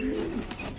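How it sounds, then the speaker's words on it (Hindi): Pigeons coo in a loft, a short, low, throaty burble heard close up, with a faint background rustle. "और उसी के साथ इसमें भी कबूतर बंद है"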